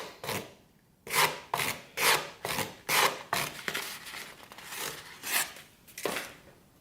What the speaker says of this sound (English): And we're just stropping this and using that well.